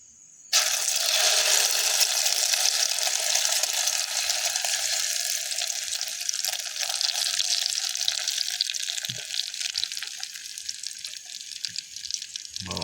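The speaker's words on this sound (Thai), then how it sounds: "มาสิทอดเลย" Eggs fry in a small pot over an outdoor cooking fire at dusk, a steady loud sizzle that starts abruptly and crackles continuously without pause, no voices over it.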